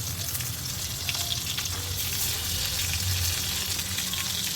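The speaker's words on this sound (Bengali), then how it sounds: "এখন হলো ডাল তেলে দেবো" Red lentils sizzle and fry in hot oil with onion, chilies, garlic and salt, making a steady close hiss that runs unbroken through the whole stretch.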